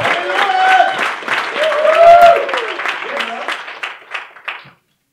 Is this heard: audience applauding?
yes